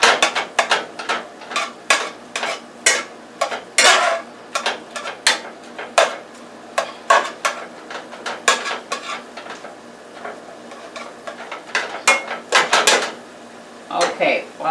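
Ground beef cooks in a pan, spatula or utensil scraping and clinking against the metal in quick, irregular strokes over a soft sizzle, close and fairly loud with no voices.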